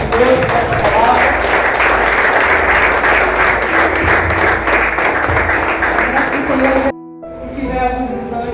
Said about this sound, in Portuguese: Dê um louvor de palmas ao nosso Deus por essa palavra.